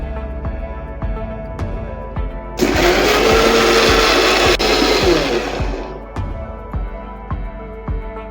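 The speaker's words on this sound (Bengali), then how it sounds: "আমরা এবার মিক্সচার মেশিনে এটাকে ব্লেন্ড করব।" Electric mixer blending butter into fruit cake batter in a kitchen, a loud whirring burst lasting about three seconds over a steady background of rhythmic mechanical ticking that keeps going before and after.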